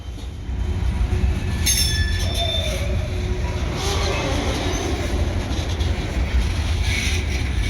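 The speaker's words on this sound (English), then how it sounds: "Oh, another train." A freight train rumbles steadily past close by in Minneapolis, with a low continuous roar and brief high metallic squeals of wheels on rails.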